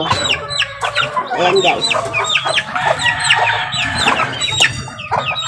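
A mother hen clucks steadily among her chicks, whose high peeping rings out continuously and close by, with a brief voice speaking partway through.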